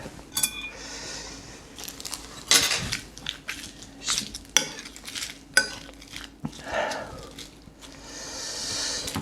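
A utensil stirs Buldak spicy noodles together with rice, tuna and mayonnaise, giving irregular clinks and scrapes against the dish, with a voice talking briefly.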